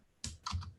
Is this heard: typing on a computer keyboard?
yes